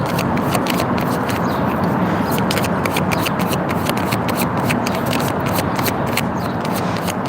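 Cards riffle and slap continuously in a brisk, close shuffle, with rapid repeated flicks and no talking.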